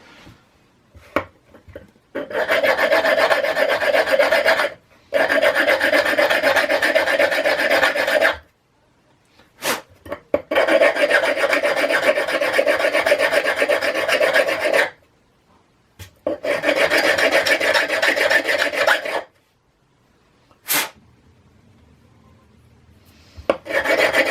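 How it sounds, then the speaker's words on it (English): A hand file rasps burrs off the end of a Devair 447 aircraft engine piston in long, loud, close strokes. Four sustained scraping bursts are separated by brief pauses and small clicks. "just filing all the burrs that are at the end"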